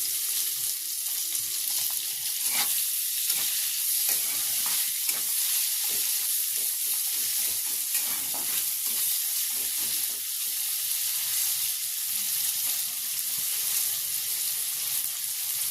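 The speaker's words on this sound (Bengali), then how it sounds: "পেঁয়াজটা উল্টে পাল্টে লাল লাল করে ভেজে নেব" Onions sizzle steadily in a little hot oil, with scraping and stirring noises from a spatula turning them until reddish-brown. The sound is close and continuous, with no talking.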